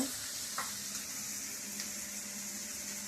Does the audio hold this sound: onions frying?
yes